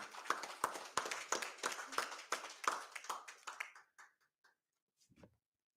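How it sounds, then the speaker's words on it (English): Small group clapping for a name called out at a presidential announcement ceremony, a brisk, slightly uneven patter that dies away after about four seconds, followed by a faint short knock. "A round of applause for her too."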